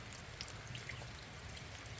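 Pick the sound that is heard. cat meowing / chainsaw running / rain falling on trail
rain falling on trail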